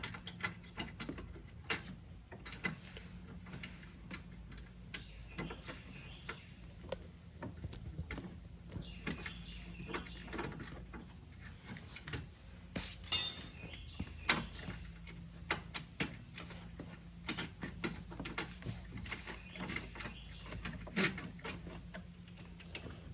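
A tow hook being screwed by hand into its mount on a 2017 Camaro SS 1LE, faint scattered metallic clicks and ticks with a few louder taps, no talk.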